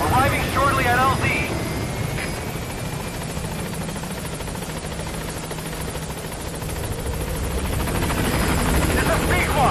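A B-Quad support helicopter in the Metal Gear Solid 5 video game approaching a landing zone, its rotor drone steady and loud throughout, with radio voices talking over it.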